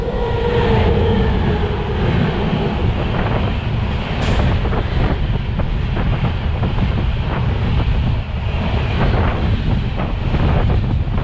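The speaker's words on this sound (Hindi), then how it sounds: "अब आ रही है ट्रेन मुंबई राजधानी तेजस एक्सप्रेस, मुंबई तेजस राजधानी एक्सप्रेस से रात क्रॉसिंग हो रही है हमारी।" The Mumbai Rajdhani Tejas Express passes close at night near Kota Junction, a loud, continuous roar of wheels and rushing air with heavy wind buffeting, steady throughout.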